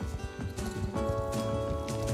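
Horse hooves clip-clop in an even trotting rhythm within a video game, close and steady over background music, with no talking.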